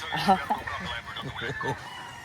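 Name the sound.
Boston Millionaire gamefowl roosters crowing and clucking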